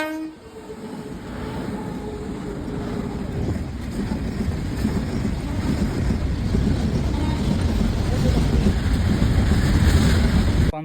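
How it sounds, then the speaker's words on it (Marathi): A train rolls past a railway line in the Konkan region. A horn sounds at the start, then a rising, continuous rumble and clatter of wagons builds and stays loud to the end. "एवढ्यात रेल्वे पण आली मित्रांनो"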